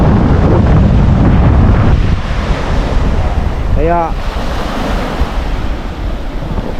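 Strong wind blowing by the sea, heavy gusts buffeting the microphone over surf, loudest at first and then easing to a steady rush, with a brief voice in the middle.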